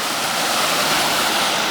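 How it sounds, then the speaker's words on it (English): Constant roar of rushing water from Mill Creek Falls on the Mason-Dixon Trail, broad and steady with no pauses. "And I'm guessing that's Mill Creek Falls."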